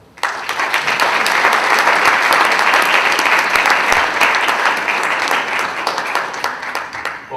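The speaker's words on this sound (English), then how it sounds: "we will all give a round of applause" An audience at an annual conference applauds to welcome the state controller, steady dense clapping filling the room for several seconds before tapering off.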